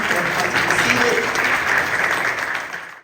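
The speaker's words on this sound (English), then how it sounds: "Let's give a round of applause as they come." An audience at a county candidates forum applauds steadily and loudly, the clapping fading out at the end.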